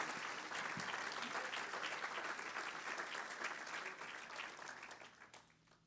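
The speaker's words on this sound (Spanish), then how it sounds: "dale un aplauso al Señor, si se lo va a dar, se lo da fuerte porque es para Dios" A church congregation gives a full round of applause, dense clapping that holds steady before gradually tapering off toward the end.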